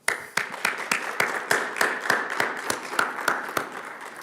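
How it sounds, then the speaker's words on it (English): An audience applauds at an MLK celebration event at a community college, with sharp, evenly spaced claps standing out over a steady wash of clapping hands for about four seconds. "join with me in a round of applause"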